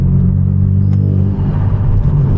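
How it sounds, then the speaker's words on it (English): Hyundai Genesis Coupe engine with a misfire, revving on its own while stationary: a loud, steady, rumbling idle-to-rev drone with uneven low throbbing, close up and without talk. "The car is in stationary. And yo, it's jumping up to 3K, 4K RPMs by itself."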